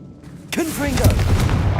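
A Confringo fire spell blasts in Hogwarts Legacy, a deep booming burst that rolls on as a rumbling roar, with a brief voice calling out just before it.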